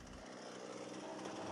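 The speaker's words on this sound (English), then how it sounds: "He hopes to make better progress by using a chainsaw." Chainsaw cutting through wood inside the cargo hold of an old pirate ship, a steady loud buzzing drone with a slight rise in pitch, no talk.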